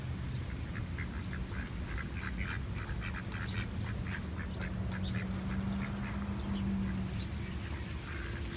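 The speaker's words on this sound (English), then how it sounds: "And there's so many ducks here." Ducks at a park pond give repeated soft quacks in scattered bursts, fairly distant and faint over a steady outdoor hum.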